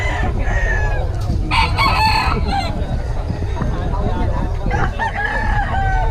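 Roosters crow repeatedly amid clucking fowl at a busy chicken market in Bocaue, several calls overlapping near and far over a constant crowd murmur, with people talking.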